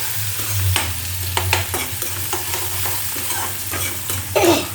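Dry onions, green onions and dry garlic stirred in a hot pan: a steady sizzle of frying with repeated scraping strokes of a spoon against the metal, close and continuous.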